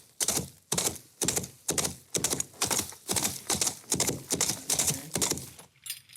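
Studio foley imitation of a horse galloping on grass, made with props by a foley artist: a steady run of soft, rhythmic thuds in regular groups, close and alone before the pattern stops.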